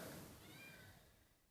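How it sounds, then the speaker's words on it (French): A single faint cat meow, quiet and somewhat distant, fading out over a second or so. "ce n'est pas le bruit du hérisson, c'est le bruit de mon chat."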